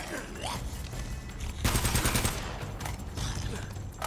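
Gunfire in Uncharted: Drake's Fortune, with a loud, rapid burst of shots partway through over steady game ambience and quieter scattered shots.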